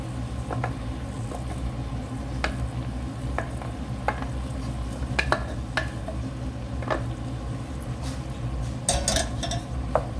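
Rice being stirred into a frying pilau mixture in a pot, a steady close sizzle broken by intermittent spoon scrapes and knocks against the metal, with no talking.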